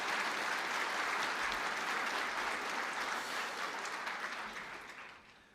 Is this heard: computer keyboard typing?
no